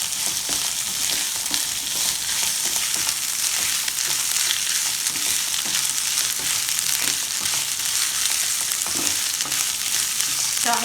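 Sliced carrots sizzle and fry in a hot pan for Hakka noodles, a steady loud crackle throughout with occasional stirring scrapes, no voices.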